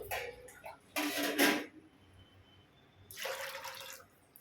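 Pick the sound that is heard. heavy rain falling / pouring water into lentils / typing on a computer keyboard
pouring water into lentils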